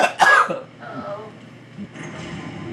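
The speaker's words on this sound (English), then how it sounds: "The coughing's getting your lungs opened up." A short burst of coughing and throat clearing up front, then someone talking over game audio from Wavetale in the background.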